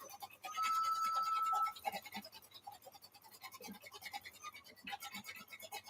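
An embroidery machine stitches freestanding lace in a hoop, a faint, rapid, even needle chatter that runs steadily throughout, with a brief higher whine early on.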